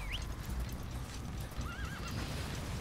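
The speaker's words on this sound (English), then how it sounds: "Come to me, magical teleporting horse" A horse neighs in Metal Gear Solid V, with a high whinny rising near the start and a wavering call later, over steady game ambience and low rumbling.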